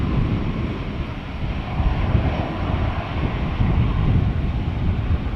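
KLM Boeing 787-10 Dreamliner in regular livery taking off from Amsterdam Schiphol for Los Angeles, a loud, continuous engine roar close by, steady and unbroken.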